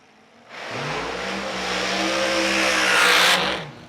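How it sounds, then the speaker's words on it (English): An Extreme Dragster race car makes a qualifying pass at a Huntsville drag strip during an outlaw racing series. Its engine roar bursts in loud and close, swells as it runs, then cuts off sharply near the end. "So this is our final Extreme Dragster entry for qualifier number 2, Brad Pleuer."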